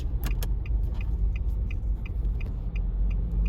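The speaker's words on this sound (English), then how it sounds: "Now they are waving past the huge lorry." Large lorry passing on a country road, a heavy close low engine rumble with light metallic jingling and clicks on top, steady for a few seconds without speech.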